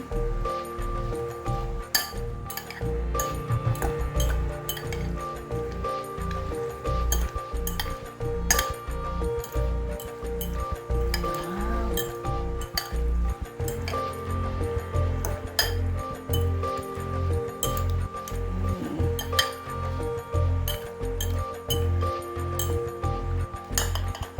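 Tomatoes and red onions are tossed in a bowl with a utensil, making busy, repeated clinks and scrapes against the bowl throughout, with soft wet squishes beneath.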